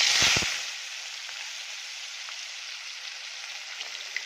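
Onion and potato frying in hot oil with peanuts, cumin and curry leaves for tempered rice, opening with a loud hiss as they hit the pan, then settling into a steady, close, even sizzle.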